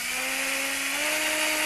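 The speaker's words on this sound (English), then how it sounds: "Now we're going to pre-drill these holes not only to prevent the wood from splitting when the screw goes through" A power drill whines steadily as it pre-drills screw holes in wood while building an easel, its loud, continuous motor pitch rising slightly as the bit bites in.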